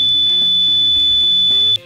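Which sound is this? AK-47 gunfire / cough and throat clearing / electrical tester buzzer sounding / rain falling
electrical tester buzzer sounding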